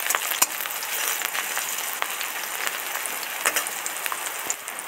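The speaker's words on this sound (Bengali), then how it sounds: "এবার সবজিটাকে ভালো করে কষিয়ে নেব।" Vegetables for aloo posto are stir-fried in a pan, giving a dense, steady crackling sizzle with occasional sharper pops, close and continuous with no talking.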